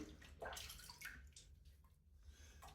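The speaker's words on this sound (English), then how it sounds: "I rinse my whole face with water in the sink" Water splashing in a bathroom sink as a face is rinsed, soft scooping splashes and trickles at irregular intervals, close but quiet.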